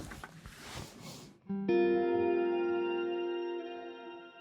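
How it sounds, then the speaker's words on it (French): Bass guitar played through a Zoom multistomp pedal set to a shimmer reverb preset: after some scratchy noise, a held note blooms into a bright, sustained wash of shimmering upper octaves that rings out and slowly fades. "Ça fait ce qu'on appelle une shimmer reverb."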